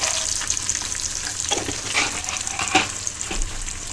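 Peanuts frying in hot oil, a continuous crackling sizzle with occasional scraping stirs, close and steady, no talking.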